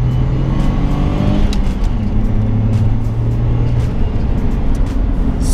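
Turbocharged Saab 9-3 Aero by Hirsch Performance pulling hard in second gear, a steady loud engine drone with rising whine and road roar from inside the cabin, no talking.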